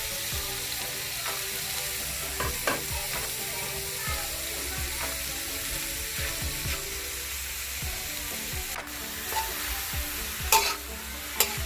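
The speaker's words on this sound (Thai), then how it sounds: "กระทะร้อนๆแล้วก็ใส่มะระลงไปเลย ไปผัดเลยนะครับผม" Bitter melon sizzles and crackles in a hot pan while being stir-fried, with steady frying noise and occasional scraping clatter.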